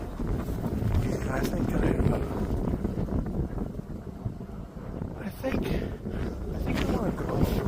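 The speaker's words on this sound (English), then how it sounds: "the wind's picking up" Outdoor wind rumbles steadily and buffets the microphone throughout, with a voice speaking briefly over the gusty roar.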